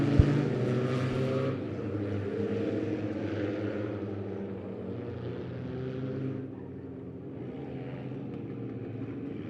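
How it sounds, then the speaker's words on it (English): Race cars roar around the dirt oval at Lebanon Midway Speedway, a continuous loud blend of engine drone that swells and fades as the cars pass, with voices talking over it. "Ooh, race car. Another race car."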